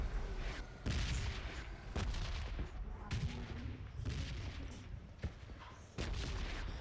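Gunfire rings out in a mobile battle royale game, loud repeated shots and sharp bursts over a dense, noisy game soundscape, spaced through the clip without clear talk.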